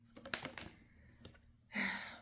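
Tarot cards shuffled by hand, a few soft riffling bursts followed by a louder, brighter flutter of cards near the end, close and quiet with no talking.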